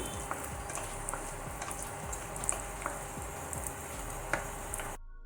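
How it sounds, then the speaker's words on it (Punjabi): Fox nuts (makhana) roast in hot ghee in a pan, giving a steady soft sizzle dotted with small ticks and pops before the sound cuts off abruptly. "ਉਸੇ ਘਿਓ ਦੇ ਵਿੱਚ ਅਸੀਂ ਫੁੱਲ ਮਖਾਣੇ ਪਾ ਦੇਵਾਂਗੇ ਫੁੱਲ ਮਖਾਣਿਆਂ ਨੂੰ ਭੁੰਨ ਲਵਾਂਗੇ"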